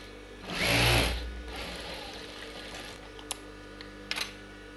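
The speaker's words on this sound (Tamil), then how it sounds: "இன்னொரு ஷோல்டர் தைக்கலாம்" A sewing machine runs a short burst of stitching along a blouse shoulder seam in a quiet room, followed by a few faint clicks and handling sounds.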